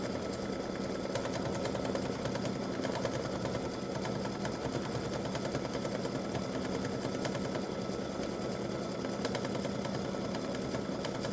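An embroidery machine stitching out a butterfly design for an edge-to-edge pattern, a fast, even mechanical whir and needle chatter running steadily throughout, moderately close with no talking.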